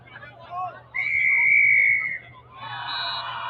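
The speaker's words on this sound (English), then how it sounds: "As referee blows his whistle" A rugby referee's whistle gives one long, loud, steady blast during a match, with softer crowd and field noise before and after it.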